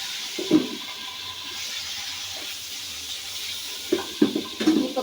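Green chili spice paste frying in hot oil gives a steady hissing sizzle, with louder bursts and pops near the start and toward the end, and no voices.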